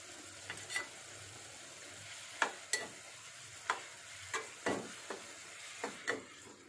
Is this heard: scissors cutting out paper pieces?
no